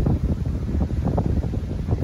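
Wind on Sumilon Island off Oslob: a brief, close, low buffeting rush of gusts against the microphone, rumbling unevenly with no voices.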